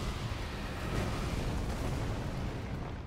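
Fiery explosion from the Bear Witness Ash of War in Elden Ring, a sustained roaring, rumbling burst that stays loud and dense throughout as embers rain down, with no talk over it.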